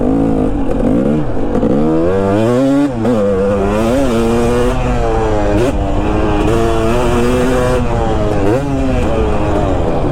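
Two-stroke dirt bike engine screams and revs continuously up and down through the gears while riding over jumps, a loud, close, buzzing drone with rising and falling pitch sweeps throughout.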